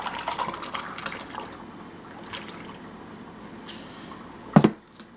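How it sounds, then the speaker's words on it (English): Liquid pours and trickles for several seconds as tea is poured while cooking in a kitchen, soft and close, ending in a brief louder splash or clatter near the end. "The first step in creating a great tea is by pouring."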